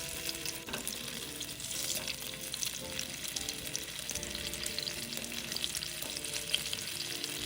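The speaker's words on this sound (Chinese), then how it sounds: "全程保持低火，将放入的木薯糕每一面都煎到香香的。" Tapioca cakes pan-fry in a little oil over low heat, a soft, continuous crackling sizzle with occasional scraping as they are turned, close and fairly quiet, with no voices.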